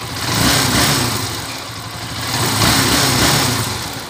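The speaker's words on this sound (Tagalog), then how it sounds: "Ayan yung andar ng makina nyo." A TMX125 Alpha motorcycle engine converted to 175cc idles steadily up close, its low rumble swelling and easing twice without any voices.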